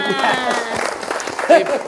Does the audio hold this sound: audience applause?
yes